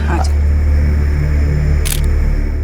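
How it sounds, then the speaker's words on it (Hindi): Camera shutter from a single-lens reflex camera fires twice while a group poses for a photo, brief crisp clicks standing out over a steady low hum and background talk. "आ जाओ जरा ये फोटो खींचो फटाफट"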